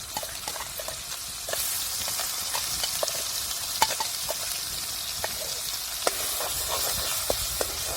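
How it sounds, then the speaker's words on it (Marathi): Spice masala frying in hot oil in a kadhai gives a continuous, fairly loud sizzle, with a stirring spoon tapping and scraping the pan at irregular intervals throughout. "मस्त मसाला आता टाकून दिलेला आहे परतायला"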